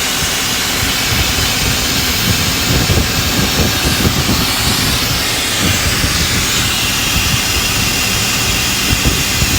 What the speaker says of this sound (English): we remove a bit of air from the tires. So, valve out. Let the tire down.